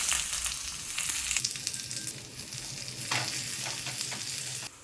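Shallots and curry leaves with dried red chillies fry in hot oil for a chicken curry, a loud, dense, continuous sizzle with crackles close by and no talking.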